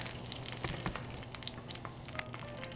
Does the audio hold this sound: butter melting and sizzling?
yes